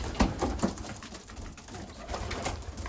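Racing pigeons in a loft coo in a few soft, low bursts, close by, against a background of faint rustling and shuffling.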